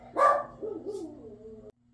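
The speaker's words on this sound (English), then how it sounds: "Sorry, the dogs are barking." Dogs barking indoors, a loud yelping bark at the start followed by a couple of softer whining yips, fairly near, with no talk over them.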